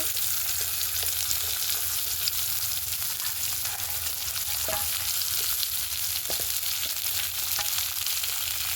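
Onions fry in a pan alongside tomatoes for a fish and tomato mash, giving a steady close sizzle broken by occasional scraping taps as they are stirred.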